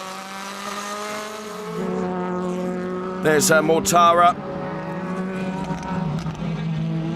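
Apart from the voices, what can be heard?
DTM race car at the Nürburgring, onboard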